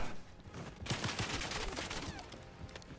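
Gunfire in the video game Call of Duty Black Ops 6, a burst of rapid, dense shots that keeps rattling for about two seconds over a noisy battle background.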